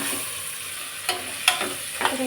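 Onions frying in a pan for vegetable pulao sizzle with a steady hiss, broken by a few distinct scraping stir strokes, close and fairly quiet.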